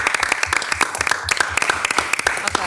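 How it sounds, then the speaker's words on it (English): A small audience claps at a city council meeting, with close, sharp, irregular handclaps continuing steadily throughout. "You can clap. Go ahead."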